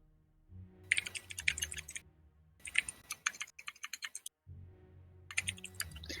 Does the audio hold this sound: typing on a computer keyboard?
yes